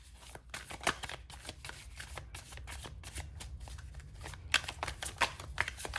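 Tarot cards being shuffled quickly, a dense run of crisp riffling and slapping bursts that repeat through the stretch, close and clear with no talking.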